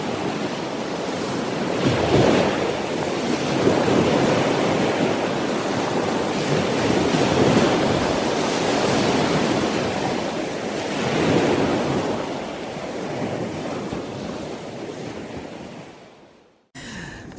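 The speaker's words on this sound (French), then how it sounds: "c'est le son des vagues, surtout les vagues qui s'échouent contre les rochers" Steady roar of ocean surf breaking against rocks, with swells rising and falling in waves of washing noise, continuous and fairly loud, ending abruptly.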